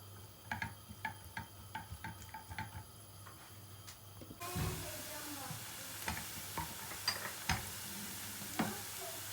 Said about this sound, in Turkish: soğanımızı yağımıza ilave ediyoruz. Biraz solduracağım soğanımızı yağda.